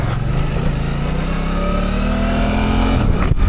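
A Suzuki GSX8R motorcycle in its most aggressive A1 riding mode accelerates hard through the gears, a loud, close, steady engine roar with rising pitch and a brief shift near the end, no voices over it.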